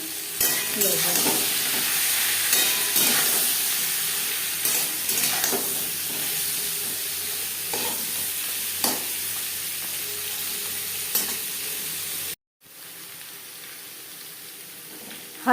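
Pointed gourd (potol) with turmeric fries over a medium gas flame in a steady loud sizzle broken by scraping stirs and clinks of the spatula, with a brief cut near the end, and no voices.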